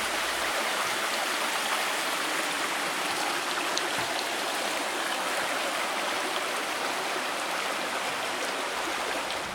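A mountain creek near Black Rock Lake in North Georgia rushes steadily into the lake, a dense, even broadband wash of flowing water heard close and continuous with no voices.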